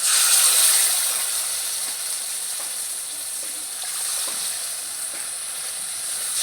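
Spiced water poured into a pan of well-fried masala for a raw banana kofta curry, giving a loud, steady hissing sizzle that peaks at the start and then settles into a continuous steamy crackle, with no talking.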